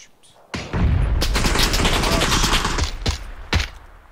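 PUBG gunfire comes as a loud, close burst of rapid shots lasting a couple of seconds, followed by a few single sharp shots, with a voice nearby.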